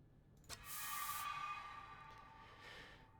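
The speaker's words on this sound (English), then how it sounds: "So it's time to use the first aid spray." A first aid spray in Resident Evil 2 lets out a single hissing burst of mist after a small click, fading into a softer second puff, clear and close with no talk over it.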